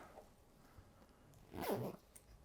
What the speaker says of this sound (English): doing up the zip underneath